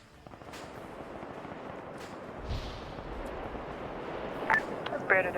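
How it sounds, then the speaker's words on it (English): Explosions and gunfire in the military shooter game Arma 3, modded, with dull booms and scattered sharp cracks rolling in the distance under steady background noise, building toward louder bursts near the end. "Hey, ground command, I just heard a big explosion."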